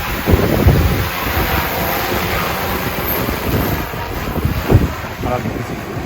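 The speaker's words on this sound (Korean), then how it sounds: "그만큼 바람이 좀 센 거예요." Strong wind during a flight test of an EFT G416-frame agricultural drone, buffeting the microphone as a continuous rumbling roar with a few louder gusts.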